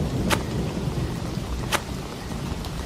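Heavy rain pours steadily over a rice field on a stormy night in a cartoon scene, with two sharp thunder cracks breaking through the dense downpour.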